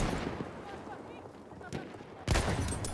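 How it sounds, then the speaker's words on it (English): A pistol shot in Battlefield 1 gives a sharp, loud report near the end, after a muffled stretch of distant battle rumble and scattered gunfire. "And another pistol snipe."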